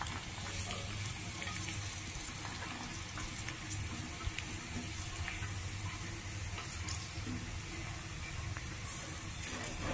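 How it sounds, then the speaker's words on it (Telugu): Chopped onions frying in a little oil in a pan over low heat, giving a steady, close hiss and crackle that runs unbroken throughout with no talk. "ఇలా కట్ చేసుకున్నవి కొద్దిగా నూనె వేసి ప్యాన్లోను వేయించుకోవాలి."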